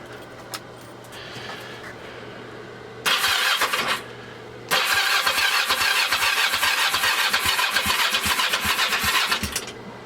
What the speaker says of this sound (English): It's gonna be the first time I try and crank it over.